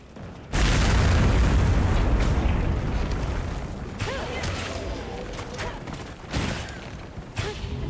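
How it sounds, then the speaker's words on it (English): A bomb detonates in Monster Hunter Wilds with a sudden loud boom that holds a heavy rumbling roar for a few seconds, then fades into lingering crashes and further bursts, with a voice faintly present. "I set a bomb."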